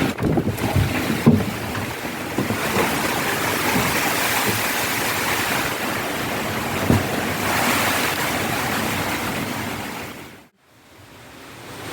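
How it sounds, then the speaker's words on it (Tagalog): Strong typhoon wind roars in loud, broad gusts, surging and easing, before dropping off sharply near the end; no talking. "sobrang lakas ng hangin dito sa amin"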